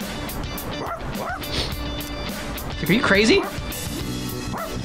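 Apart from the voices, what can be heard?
dog barking in Persona 3 Reload video game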